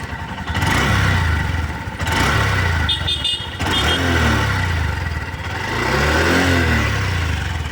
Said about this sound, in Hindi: अब एक बार वापस से आपको मैं इंजन का साउंड सुना देता हूँ।